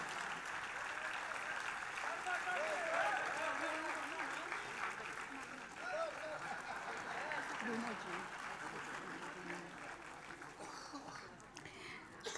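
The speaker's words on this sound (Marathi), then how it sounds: "जोरदार टाळ्या वाजवून आपण या भावनेमध्ये सहभागी होऊया. टाळ्यांचा गजर जोरदार करूया." Sustained loud applause from an audience at the book launch of Asha Bhosle's 'Svarsvamini Asha', a dense, steady roar of clapping filling the hall for over twelve seconds, with some voices mixed in.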